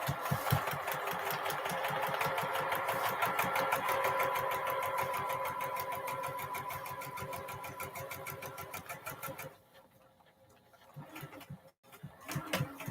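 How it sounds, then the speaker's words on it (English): A sewing machine stitches a seam line between quilt pieces number 3 and number 4, running in a fast, steady mechanical rattle for about nine seconds. It then stops, leaving only a few faint clicks and handling noises. "I go ahead and sew down my seam line of number 3 between the number 3 and the number 4"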